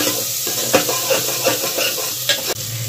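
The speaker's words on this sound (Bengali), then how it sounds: "আর এরপরে এর মধ্যে দিয়ে দেওয়া হলো হলুদ গুঁড়ো, দিয়ে ভালো করে কিন্তু নাড়িয়ে নেওয়া হচ্ছে" Ginger and turmeric powder are stirred in a hot cooking pan, with a steady sizzle under repeated scraping strokes of a spoon, close and fairly loud, and no voices.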